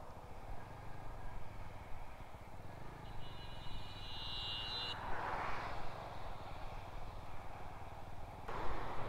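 An Apache RTR 200 motorcycle tows another motorcycle on a highway ride between Kanyakumari and Bengaluru, a steady droning engine and wind noise with a brief high whine partway through and no talk.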